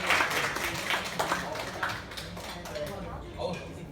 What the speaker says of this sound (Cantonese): 咁我哋熱烈嘅掌聲歡迎 Anthony。